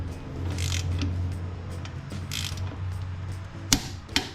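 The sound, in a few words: ratchet tightening axle U-joint bolts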